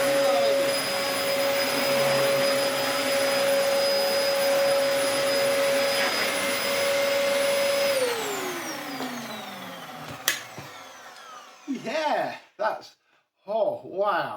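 A Dyson DC04 vacuum cleaner runs with a steady high whine, then powers down in a falling glide and stops, after which a person speaks nearby.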